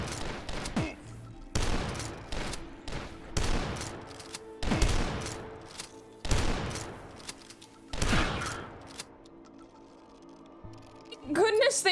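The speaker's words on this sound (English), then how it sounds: "Are these guys shooting each other?" Gunfire in a shooter video game, loud separate bursts and single shots spaced every second or so, with quieter gaps between them and a voice speaking among the shots.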